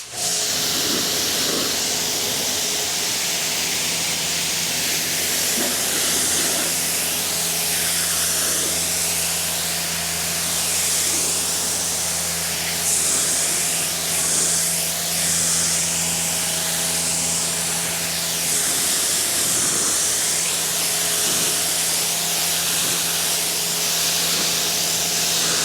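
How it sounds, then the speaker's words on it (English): A pressure water spray rinsing down a car during a wash, a loud, continuous, close hiss with a steady hum underneath, running without a break and with no talking. "So I'm going to continue to rinse this thing down."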